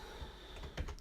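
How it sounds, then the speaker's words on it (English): Quiet typing on a computer keyboard, a few soft key taps in a short burst over a steady background hum. "I'll just type that as a comment."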